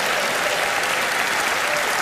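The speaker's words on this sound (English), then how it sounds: "Give her a huge round of applause." A theatre audience applauds a volunteer joining a magician on stage, dense steady clapping filling the room at full loudness throughout, with no voices rising above it.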